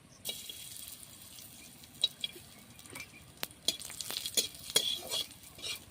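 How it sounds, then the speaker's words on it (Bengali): Cashews and raisins frying in ghee in a kadai while papaya payesh is being made, with a soft crackling sizzle and scattered sharp ticks and stirring clinks, fairly quiet and close, with no talk. "কাজু কিশমিশগুলো ভেজে নেব"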